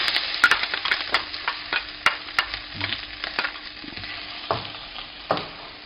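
Thai chilies, medium heat, stir-fry for pad krapow, a bright continuous sizzle broken by frequent sharp clacks of a utensil against the pan, close and loud, with no voices.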